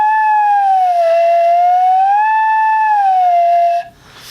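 A flute head joint blown with a pinky pushed into its open end gives a loud, sustained, wavering whistle-like tone that slides slowly up and down, then cuts off abruptly near the end.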